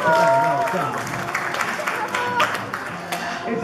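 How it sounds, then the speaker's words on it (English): A crowd at a parrot show in a safari park applauds, clapping that starts loud and then thins, with talk and bird calls mixed in. "let's give him a big round of applause for that"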